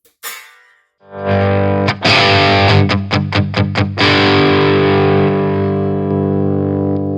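A loud distorted electric guitar chord through a HeadFirst MTL100 amp's rhythm channel with boost on rings out, followed by quick choppy strummed hits, then a long sustained fuzzy chord fading slowly.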